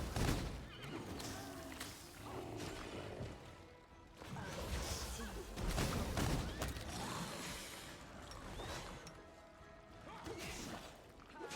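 A horse neighs and whinnies in the fantasy role-playing video game Pathfinder: Wrath of the Righteous, loud and close, with thuds and clattering game effects around it and no talk over it.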